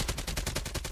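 Rapid spray of automatic gunfire in an esports first-person shooter match, roughly ten evenly spaced shots in quick rhythm, loud and close with no talk over it.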